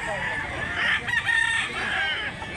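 A fighting rooster crows loudly nearby, one drawn-out crow rising and falling across most of the stretch.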